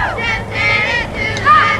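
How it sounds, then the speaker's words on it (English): A Plattsburgh State softball cheering squad in the dugout chants loudly between pitches, a group of voices shouting in unison with a sing-song rise and fall, close and energetic. "giving the cheering squad in the dugout for Plattsburgh State time for an additional cheer between pitches"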